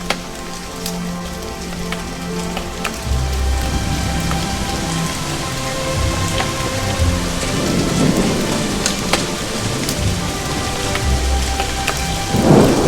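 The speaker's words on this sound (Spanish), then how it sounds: "Está lloviendo sangre." Heavy rain pours steadily in a film scene while rolls of thunder rumble low and loud through it, with no one speaking.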